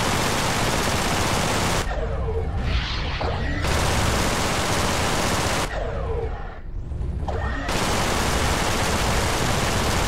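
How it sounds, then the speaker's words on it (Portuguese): Loud, steady blasts of rapid laser-like spaceship gunfire in the space combat game EverSpace roar almost continuously, broken by two short lulls where quieter whooshing sounds come through. "Parece que esses tiros não adiantam muita coisa"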